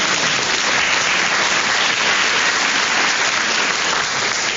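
Sustained, dense applause from a theatre audience at a radio quiz show, loud and steady throughout with no pauses, filling the whole space.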